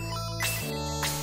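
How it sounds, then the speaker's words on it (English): A mobile phone ringtone sounds in short repeating electronic tone phrases, loud and close, with no talk over it. "Why does my phone keep going off?"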